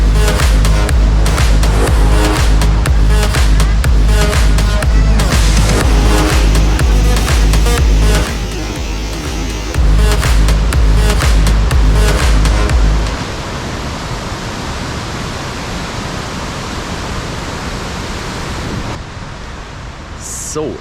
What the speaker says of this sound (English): let's have a look at the waterfalls.